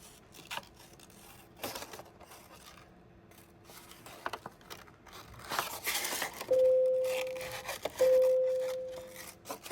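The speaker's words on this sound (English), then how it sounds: "I think this time I'm gonna cut off the top first." Paper being cut and handled for collage landscape pieces, with scattered snips, rustles and crinkles close by, plus a steady tone running through part of it.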